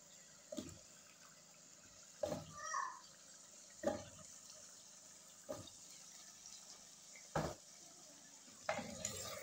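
Beef cubes for a potato beef korma are stirred and fried in a pot. A spoon scrapes and clanks against the pot every second or two over a faint, steady sizzle, quiet and close.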